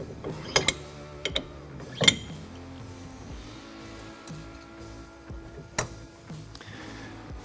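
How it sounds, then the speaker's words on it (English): Metal clips and pins are pulled from a B&W tow-and-stow hitch to adjust the ball height: sharp metallic clicks and clanks, a few louder knocks in irregular bursts, close by with light handling noise between. "we're going to pull our clips on the back pins and pull our pins, adjust to the ball height we need"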